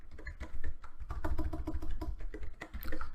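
Rapid, uneven keystrokes on a computer keyboard, typed up close in a quiet room as an IP address is entered on a 64-bit Windows computer, with clicks running steadily for the whole stretch.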